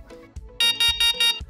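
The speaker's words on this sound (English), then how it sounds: "The beeping lets me know it's full!" An electronic tampon alarm gives four loud, evenly spaced shrill beeps, close and sharp, with no talk over them.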